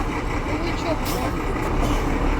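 Heavy trucks, buses and cars idle and creep through a congested street in Kharkiv, a steady loud engine rumble close by with traffic noise throughout and people talking in the background.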